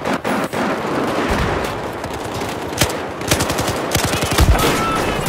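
Sustained automatic gunfire from Battlefield 4 multiplayer on the Siege of Shanghai map rattles close and loud, with rapid overlapping bursts and sharper individual shots cutting through a dense battle din.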